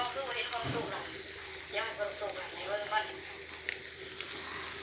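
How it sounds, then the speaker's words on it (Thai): Corn and basil fritters frying in hot oil in a pan, with a continuous close bubbling sizzle and someone speaking over it. "ตั้งน้ำมันเลยค่ะ เดี๋ยวก็ทอดเลย"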